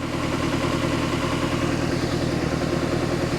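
A 1976 Mercruiser 120 hp inboard boat engine idles with a continuous low rumble and rhythmic lifter clatter, loud and close.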